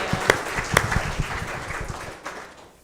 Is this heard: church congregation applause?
yes